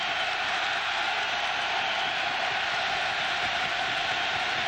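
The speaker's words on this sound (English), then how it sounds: "this crowd is going to get into it big time" A steady, loud roar from a football stadium crowd during a 1999 Pittsburgh versus Penn State college game, a continuous wash of massed voices with no breaks.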